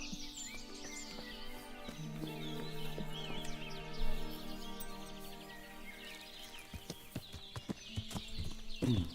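Horse hooves clip-clop steadily at moderate distance in the medieval role-playing game Kingdom Come: Deliverance, with faint bird chirps and a few louder hoof strikes near the end.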